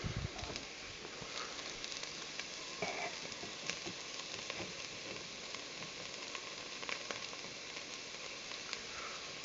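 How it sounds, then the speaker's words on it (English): Onions sautéing in a pan for a cheap, easy beef stew give off a steady, dense sizzle with faint stirring clatter, close and continuous throughout with no talking. "I got the onions pretty well sauteed"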